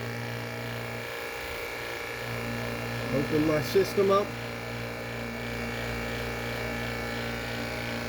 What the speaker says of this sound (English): it should begin to pull the vacuum. It's not very quiet.